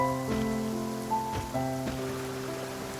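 Soft, steady rainfall patters across the scene in Genshin Impact, a gentle continuous hiss under sustained game music tones, with no voices.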